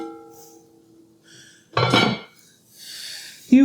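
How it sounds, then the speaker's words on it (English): A lid goes onto a Tramontina enameled cast iron Dutch oven, with a heavy clunk midway and a sharp metallic clink at the end, separated by quiet scraping. "Does the lid fit? The lid, boom."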